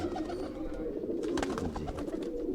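Punjabi pigeons cooing in a loft, soft repeated low coos close by over a murmur of background noise, fairly faint.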